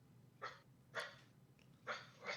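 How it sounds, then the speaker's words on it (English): A dog gives four quiet, short barks spaced about half a second apart, faint and somewhat distant over a low background hum. "The doggy bark."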